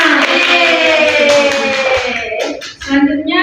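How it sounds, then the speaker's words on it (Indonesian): Classmates clap for a student named Gina in a micro-teaching classroom, a short burst of light applause from a small group, fairly close and brief, with a voice heard around it. "Tepuk tangan untuk Gina."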